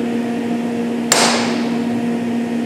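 A single sharp metallic strike of a hammer on a chisel wedged in the score of a differential bearing inner race, close and fairly loud, with a brief ringing decay over a steady background hum.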